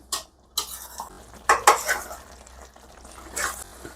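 A spoon clinks and scrapes around a metal pot in a few quick, close strokes as thick Andhra chicken curry is stirred after adding hot water, with a faint sizzle underneath.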